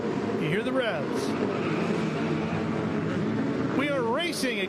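FR Americas open-wheel race cars revving at the start of a race at Canadian Tire Motorsport Park, with engine pitch sweeping up and down loudly as the pack launches, under continuous commentary.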